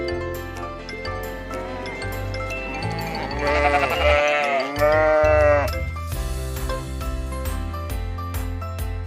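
Sheep bleating loudly and repeatedly, wavering cries overlapping one another, with a faint jingle of bells in the background.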